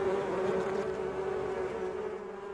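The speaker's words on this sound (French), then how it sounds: "il y a des abeilles partout. Elles sont en train de m'encercler alors que nous parlons." Swarming honeybees buzz around a beekeeper in the village of Shiwa in Hunan, a dense, steady drone close by with no voices over it.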